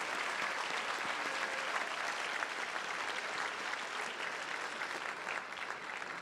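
Sustained audience applause at a graduate studies convocation honoring a university band, steady dense clapping from a large crowd throughout, alone with no talk.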